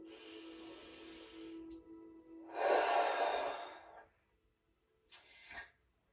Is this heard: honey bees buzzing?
no